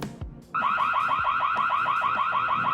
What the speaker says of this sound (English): scare off intruders with the built-in alarm